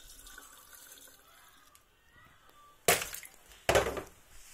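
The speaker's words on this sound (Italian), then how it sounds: "prendiamo e aggiungiamo la nostra acqua," About 100 grams of water poured into a mixer bowl for homemade butter, the ice held back, coming as two short loud splashing bursts after a quiet stretch of faint kitchen noise.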